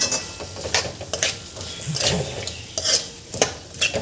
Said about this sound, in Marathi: मीठ घातल्यावर परत एकदा आपल्याला 1 मिनिट पूर्ण भाजी छान परतवून घ्यायची आहे